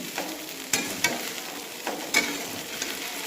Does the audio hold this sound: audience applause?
no